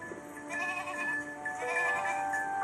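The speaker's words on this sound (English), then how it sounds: "The goat turned about and started eating the herbs from Heidi's hand" A goat bleats in long wavering cries, loud and close, with several calls running into one another.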